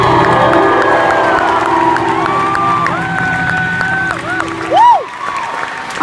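A concert crowd at the Fox Theatre in Oakland cheers and applauds for a band. The noise is loud and sustained, with ringing tonal sounds and a few high whoops over it.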